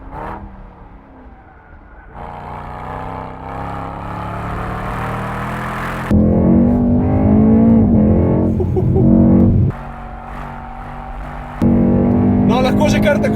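A powerful heavy luxury sedan rated at 612 horsepower driving at an easy, touristic pace on a track, its steady engine drone and road roar holding loud and close throughout, with pitch shifting as gears change.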